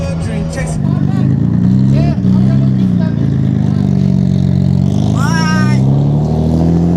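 Nissan R32 with an RB25DE engine revving loudly and steadily, a rough raspy exhaust note that rises and falls through several throttle blips, with people talking over it.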